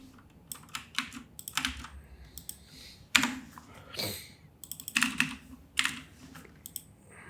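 Rapid bursts of typing on a computer keyboard while entering code in a Next.js project, irregular clusters of close key clicks with short pauses and no talking.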